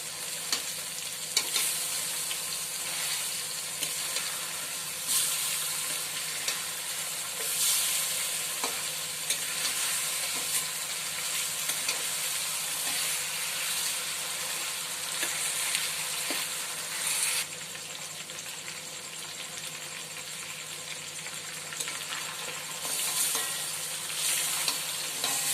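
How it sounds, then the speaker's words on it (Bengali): Restaurant-style chicken chaap pieces frying in a pan, a steady close sizzle with occasional scrapes and clacks as the pieces are turned over and over. "দু তিনবার উল্টে পাল্টে ভেজে নেব, যাতে 2 পিঠ ভালোভাবে ভাজা হয়।"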